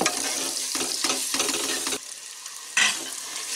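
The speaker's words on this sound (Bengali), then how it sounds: "উপকরণগুলোকেও আমি 1 মিনিট ভেজে নিচ্ছি।" Spices, rice and other ingredients for egg biryani frying in a pressure cooker: a loud, close sizzle broken by stirring scrapes. The sizzle dips, then flares again near the end.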